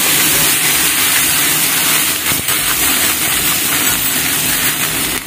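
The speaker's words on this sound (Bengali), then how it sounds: "এইফালে মায়ে আলু ভাজি দিছে সৰু সৰু" Small potato pieces fry in a pan, giving a loud, dense, steady sizzling hiss that runs unbroken and close throughout.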